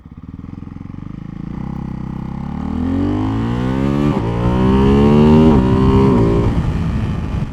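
A Ducati Hypermotard 698 Mono single-cylinder with an Akrapovic exhaust accelerates hard through first and second gear, its loud engine note climbing in pitch, dropping briefly at each upshift and building again, near and alone.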